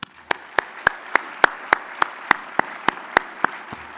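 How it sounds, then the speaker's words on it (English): Slow, evenly spaced claps ring out one by one at a mobility summit opening session, about a dozen sharp single hits in a steady rhythm, close and distinct rather than a full crowd roar. "Please help me give another round of applause to all of the speakers this morning"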